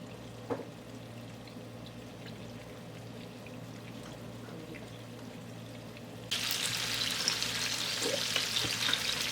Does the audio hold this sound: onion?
yes